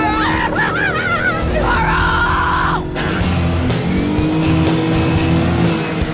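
A car engine roars and revs up close, with rushing road noise and excited shouting over it.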